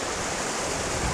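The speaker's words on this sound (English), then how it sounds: "this waterfall will run all year round, even when most of the other waterfalls have dried up" Waterfall at Sombrio Beach hidden falls on Vancouver Island, a year-round flow heard as a steady, close rushing hiss of water, fairly quiet and unbroken, with no voices.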